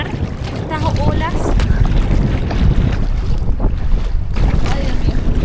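Waves slap and wash steadily beneath strong, icy wind gusting across the microphone on a glacier lake in front of the glacier, near and loud throughout, with faint voices in the background.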